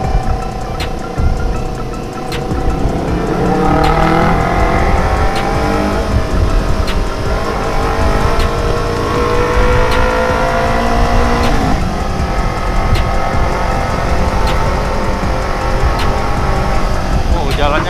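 A Kawasaki Ninja motorcycle rides through congested, slow traffic, its engine droning steadily and loudly up close with passing vehicle noise, while a rider talks over it throughout.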